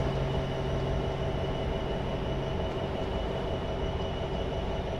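Simulated freight train of many grain cars rolling along steadily in Train Sim 2015, a continuous loud rumble of wheels and rail noise with a low hum, no voices.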